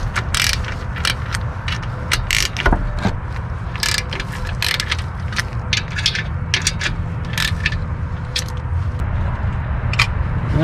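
A wrench ratchets on the flywheel bolts of an Infiniti G35 during clutch and flywheel replacement, giving rapid repeated metallic clicks in bursts, close and fairly loud over a low workshop hum.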